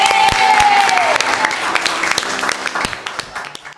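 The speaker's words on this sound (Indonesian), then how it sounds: "Tepuk tangan." A classroom of students claps together in a short burst of applause that thins out over a few seconds, with a faint tone and some voices in the background.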